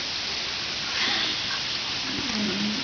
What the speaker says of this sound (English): It ain't very comfortable with the rain